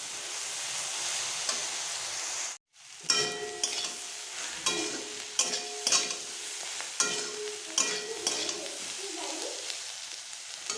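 Potatoes and eggplant fry in a pan with a steady, close sizzle, broken by short scraping stirs and a brief silent gap early on.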